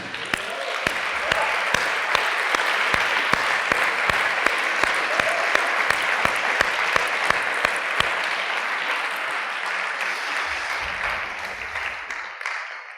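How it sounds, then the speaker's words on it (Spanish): Congregation applauding during a church sermon, a long sustained round of many hands clapping with sharp louder claps standing out, gradually fading near the end. "Le damos un aplauso al Rey."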